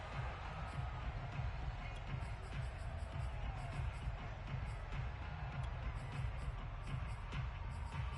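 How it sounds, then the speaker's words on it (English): A football stadium crowd at a Green Bay versus Detroit game keeps up a broad, steady roar of distant shouting and murmuring, with scattered louder calls rising out of the din throughout. "Plenty of shouts from this crowd as they watch the replay."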